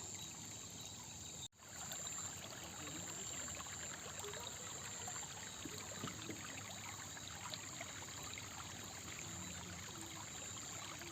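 A stream runs through a forest of large sal trees, a steady, close trickling and burbling that goes on without a break, with one short dropout near the start.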